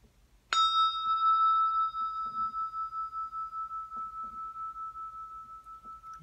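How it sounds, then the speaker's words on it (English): A single bell used in a sound healing session is struck once, giving a clear bright ring that sustains and slowly fades over several seconds, with faint background noises beneath. "It's my favorite bell."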